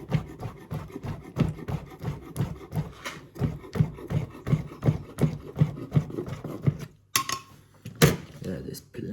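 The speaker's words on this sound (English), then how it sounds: "Okay, let's chop it very finely." A knife chops ingredients finely for tourtons, mini cheesy French pasties, with a steady run of quick, close, woody taps on a board for about seven seconds before a pause and a few scattered knocks.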